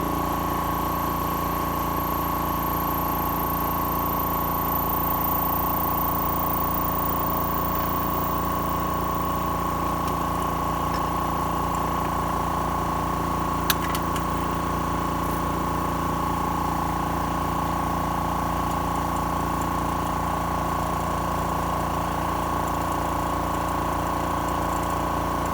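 An Air Venturi high pressure air compressor running steadily with its fan, a constant humming drone with layered tonal whine and faint mechanical pulsing, unchanging and moderately quiet for the whole stretch, with no voices.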